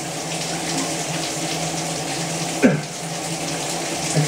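Steady hiss of water running from a tap, close and continuous, with a single small knock partway through.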